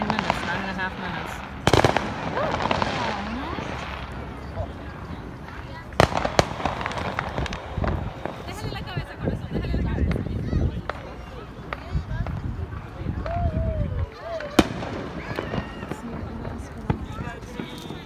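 July 4th fireworks during the 2020 pandemic, with some launched from a hospital behind the listener, pop and boom irregularly at a distance, sharp bangs scattered over a steady crackling backdrop while people talk nearby.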